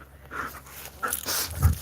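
A dog pants and breathes in quick, breathy bursts while playing in a garden in late-October New Hampshire, with a few soft rustles and footsteps nearby.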